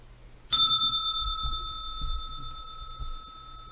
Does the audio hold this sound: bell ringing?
yes